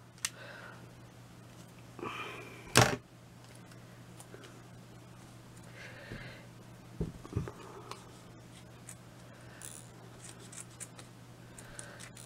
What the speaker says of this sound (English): them scissors aren't sharp anymore